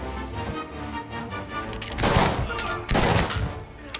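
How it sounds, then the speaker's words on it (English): Gunfire in Mafia Definitive Edition, a couple of loud, sharp shots bursting over a rumbling background of game music and ambience, close and punchy. "Taking a shot!"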